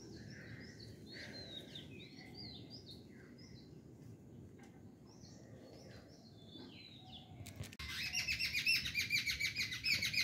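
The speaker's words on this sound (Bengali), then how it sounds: "পাখি এসে ডাকতেছে।" Several birds call and chirp in quick repeated phrases outdoors near a wood-apple tree, moderately close, joined near the end by a louder, rapid trilling chatter, with no talk.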